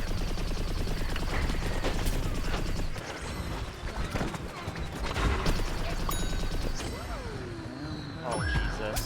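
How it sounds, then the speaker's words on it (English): Dense rapid gunfire and explosions fill a cartoony video game, loud and nearly continuous with sharp bursts and whooshing effects throughout. "I hear so many bullets."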